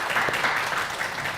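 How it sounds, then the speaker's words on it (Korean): A short burst of applause from the audience at a Korean lecture on sex education and digital sex crimes, heard as a dense, even wash of many hands clapping at moderate level, with no talk over it. "박수 한번 칠까요?"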